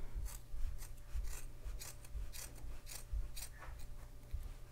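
Scissors snip yarn loops on a crochet pompom close up, a quiet, irregular series of crisp rasping cuts over a low steady hum.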